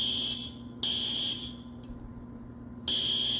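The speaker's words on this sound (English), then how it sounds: "Oh no, the fire alarm went off." A fire alarm going off in a school-style setting, loud electronic buzzing in repeated on-off bursts with short gaps, no voices.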